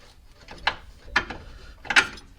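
Ratchet wrench clicking while the timing system of a 2005 Ford F150 is rebuilt; three separate close, crisp bursts of clicks spaced about half a second apart, with no talking.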